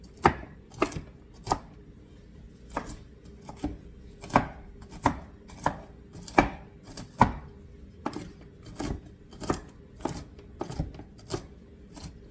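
Walnuts being coarsely chopped with a knife on a cutting board, a steady run of about twenty sharp, close knocks at an even, unhurried pace, with no one talking.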